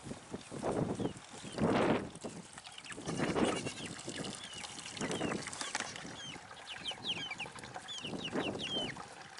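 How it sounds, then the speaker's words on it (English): A rooster crows several times in drawn-out bursts, with clucking and other farmyard animal calls around it, fairly close and moderately loud. "Yep, that's a rooster."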